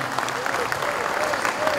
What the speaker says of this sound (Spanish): Vamos a recibirlo con un fuerte aplauso por aquí.